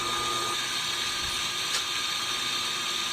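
A homemade saw-sharpening machine built from a lengthened bike axle runs with a continuous, dense whirring and grinding hum, steady and fairly close throughout, with a faint tick midway.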